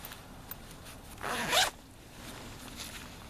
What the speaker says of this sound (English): It's a one-way zipper.